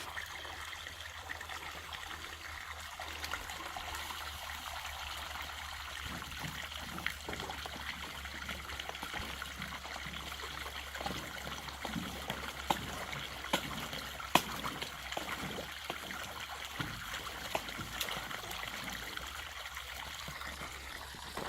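Water trickles out of the end of a black pipe at a blocked bypass. It makes a faint, steady dribbling and splashing that goes on unbroken, with no talk over it.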